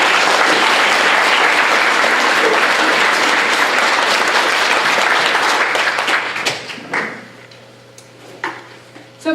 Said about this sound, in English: one more large round of applause for all the candidates